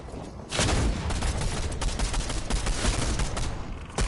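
Rapid gunfire bursts in a Fortnite solo match, loud, dense and continuous after a short quieter opening, with overlapping shots and impacts.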